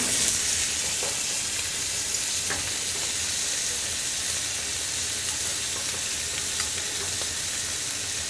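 Steaks and gyozas frying together in a hot pan, a dense, continuous sizzle and crackle that stays loud and even throughout, close up with no voices.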